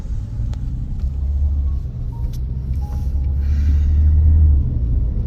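A car drives along a rough stretch of highway past a toll booth on a Kolkata to Siliguri road trip, with a steady, close low rumble, occasional bumps and a faint high squeak.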